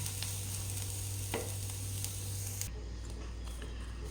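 Paneer momo stuffing with fresh coriander hisses softly in a pan under gentle stir-frying, a continuous quiet sizzle with an occasional scrape; no talking.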